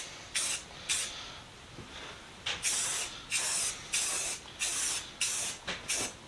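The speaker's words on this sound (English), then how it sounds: "We're going to go back over it with a primer, and then once that dries, we can get a color coat on there" Spray can of primer misting onto sanded, rusty wrenches in short hissing bursts, about nine of them in an uneven rhythm with brief gaps between. The sound is close and moderately loud, and no voices are heard.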